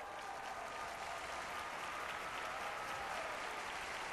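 Steady, dense applause from a dog show crowd greeting a Doberman in the Best in Show ring, a continuous even wash of clapping that holds the whole time with no voices on top.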